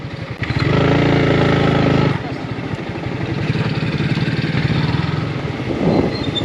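A motorcycle engine revs loudly for a moment and then drops back to a steady rumble as the bike rides on, with voices talking over part of it.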